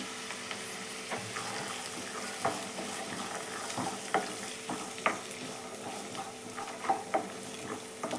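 Green peas are stirred into a sizzling masala curry for paneer in a pan, steady frying hiss with repeated scraping spoon strokes, close and continuous, no voices.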